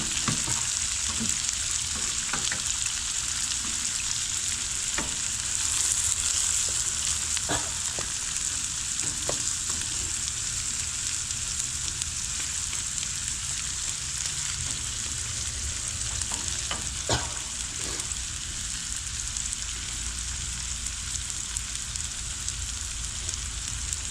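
Two onions fry on a hot griddle for bacon jam sliders, making a continuous, even sizzle that runs the whole length. Occasional clicks and scrapes of stirring come through the hiss.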